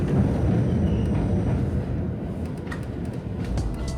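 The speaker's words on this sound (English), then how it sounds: "And even how quiet the actual subway can be." Subway train running, a continuous rumbling roar with rail clatter that eases slightly midway, no voices.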